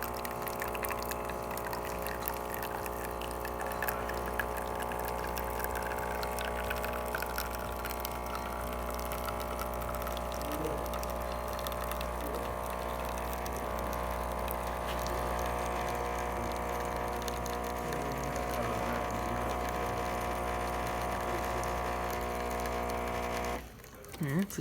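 Saeco espresso machine, just serviced, pumping water through a test shot, a steady close mechanical pump hum with tonal whine and trickling liquid that runs on evenly before cutting off near the end.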